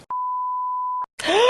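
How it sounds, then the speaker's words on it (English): A single steady electronic censor bleep sounds for about a second, loud and pure, cutting out a spoken name, followed by a brief snatch of voice. "I'm gonna have to beep all the names out"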